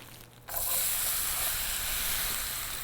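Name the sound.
onions frying in butter and olive oil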